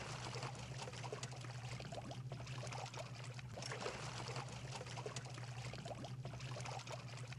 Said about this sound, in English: I love the sound effects of this slightly bubbling trash water